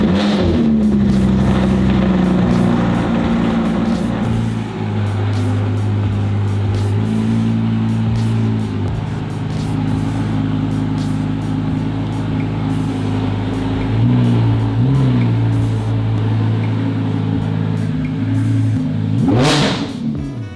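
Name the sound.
loud sports car cold start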